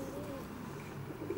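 Racing pigeons cooing in a loft, soft low coos that repeat over a constant room hum, faint and close.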